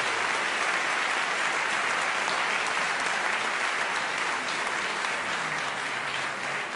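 A large audience applauds the debaters after a debate, a dense, steady wash of many hands clapping that stays loud and continuous throughout.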